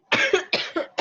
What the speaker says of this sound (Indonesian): Aku batuk dong.